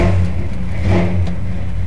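A 1967 Ford F100 pickup engine runs and revs, a steady close rumble with a slight rise in pitch, loud and alone without talk.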